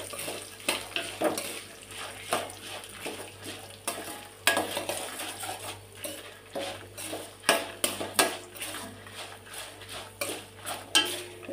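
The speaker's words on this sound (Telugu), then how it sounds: "ఇవన్నీ మంచిగా గోల్డెన్ కలర్లోకి వచ్చేదాకా ఫ్రై చేసుకోవాలి" Spices and curry leaves fry in a pan, crackling and sizzling steadily while a utensil scrapes and stirs in repeated clinks and scrapes throughout, close and moderately loud.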